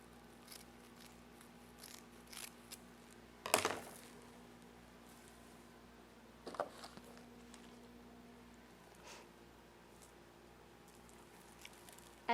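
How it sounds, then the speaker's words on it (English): Scissors cut through deco mesh ribbon on a wreath, two sharp close snips a few seconds apart amid quiet rustling of the mesh. "I'm just going to cut that off to about 4 or 5 inches"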